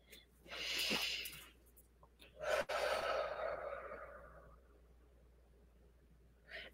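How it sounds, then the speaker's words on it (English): A big, deep breath during a guided spiritual grounding prayer: a soft inhale followed by a long, gradually fading exhale, close and quiet, with another faint breath at the end. "And taking a big, deep breath here."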